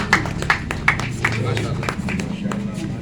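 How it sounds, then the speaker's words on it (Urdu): Enthusiastic applause at a prize distribution ceremony, with sharp claps scattered through steady clapping from an audience while people talk over it. "پرجوش تالیوں میں ان کا استقبال کیجیے"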